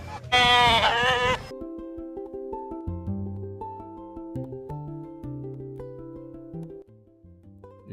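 Sheep bleat loudly at a Tabaski festival sheep market, one strong close bleat up front followed by a steady mix of other tonal sounds and background activity.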